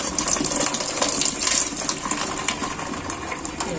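Tap water gushes steadily through goat intestines being cleaned, a loud continuous splashing stream close by with no talk over it.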